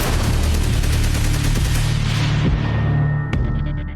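Rapid bursts of AK-47 rifle fire from an attack on soldiers outside a shop in Kashmir, loud and dense across the clip, with a sharp sudden crack near the end.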